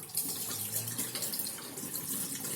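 Tap water runs steadily into a sink while a greased baking tin is rinsed, a continuous close splashing hiss with no voices.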